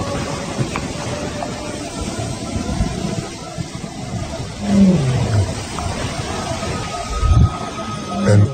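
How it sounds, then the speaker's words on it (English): Wild male lions from upriver let out a couple of deep, rumbling roars at moderate distance, rising over a dense outdoor background while a voice narrates. "An unfamiliar roar."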